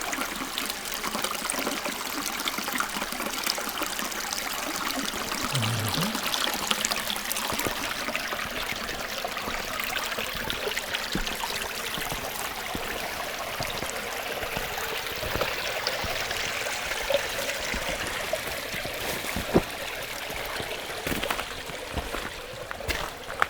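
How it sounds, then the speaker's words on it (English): Steady bubbling and trickling of stream water flowing over a small ledge, continuous and fairly close, with no voices. "the water goes down and makes a nice bubbling noise"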